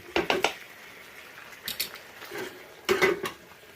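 Flour sauce being stirred in a pot for homemade Ukrainian meatballs, with scraping clinks of a utensil against the pot in three short bursts and quiet pauses between them.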